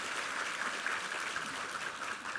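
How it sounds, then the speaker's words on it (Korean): A church congregation applauds the choir during a Sunday worship service, a short, faint wash of many hands clapping heard from a distance. "힘찬 감사의 박수 드리겠습니다."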